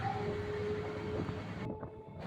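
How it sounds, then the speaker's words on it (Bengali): A train pulls slowly out of Nungi station on the Budge Budge line, a steady low rumble and rolling clatter with a faint whine, continuous and fairly close. "এখন ট্রেন ধীরে ধীরে নুঙ্গি স্টেশন ছেড়ে বেরিয়ে যাচ্ছে"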